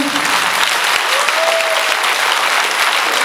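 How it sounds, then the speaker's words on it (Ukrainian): A concert audience in Truskavets applauds, with loud, dense, steady clapping from many hands that continues unbroken throughout. "Аплодисменти"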